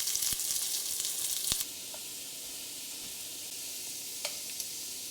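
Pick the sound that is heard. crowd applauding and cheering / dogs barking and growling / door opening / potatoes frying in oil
potatoes frying in oil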